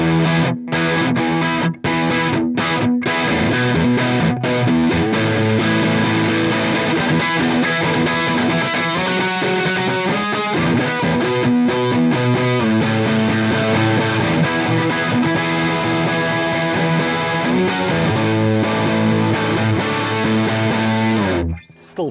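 Heavily distorted electric guitar played through a Mesa Boogie Mark V Mini amp in Mark IV mode, thick and saturated, chugging riffs and sustained chords continuing loudly throughout.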